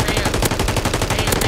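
Rapid automatic gunfire from Call of Duty: Modern Warfare 3, a loud, dense burst of machine-gun shots fired in quick succession, close and continuous for the whole moment.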